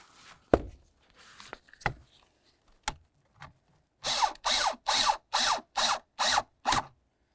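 Mounting screws for a 2004-2006 Scion xB blower motor are driven into plastic, first a few scattered clicks and taps, then a rapid run of seven even whirring bursts from a power driver.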